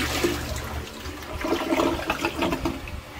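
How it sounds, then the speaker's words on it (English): A newly installed toilet flushes close by, a continuous rushing, gurgling swirl of water that swells and surges for a few seconds with no voices over it. "here's the test of my very first toilet install"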